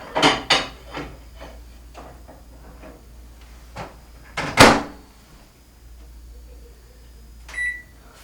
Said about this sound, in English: I'm going to put it in my microwave on high